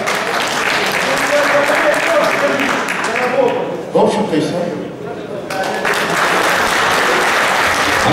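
Clapping from an audience at a fans' meeting with their football club rises over a speaker's closing words, briefly thins in the middle, then swells back into loud, dense applause.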